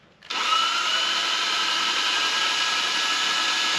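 A power drill spins up sharply and then holds a steady, loud high whine as it bores through an aluminum motorcycle fairing on a Honda CBR600RR to make a hole for a rivnut, close and continuous with no talking.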